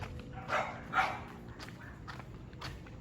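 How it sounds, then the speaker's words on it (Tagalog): A few short dog barks ring out close by over a low, steady background rumble, with scattered quieter noises after them. "Ang aso."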